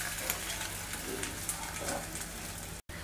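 Hing, ginger and green chili paste and mashed potato fry with cumin over a low gas flame, making a gentle, continuous sizzle broken by soft spatula stirs, with one brief dropout near the end.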